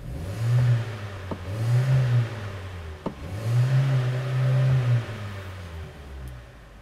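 The 2-litre engine of a 2017 Hyundai Elantra Limited is revved twice in succession, each time a smooth rising and falling roar, with a soft tick between the revs.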